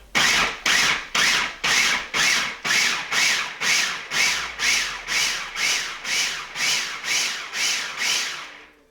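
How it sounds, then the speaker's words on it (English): A food processor pulses peeled prickly pears, about fifteen short, even bursts of whirring, churning noise in a quick regular rhythm, close and loud with no talk. "drop them into a food processor and pulse this until it is nice and liquidy"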